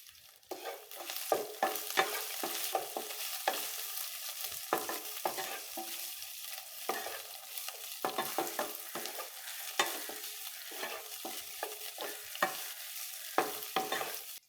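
Onions and chopped green chillies sautéing in a pan for a squid curry, a soft sizzle broken by frequent scraping strokes of a spoon in an irregular stirring rhythm.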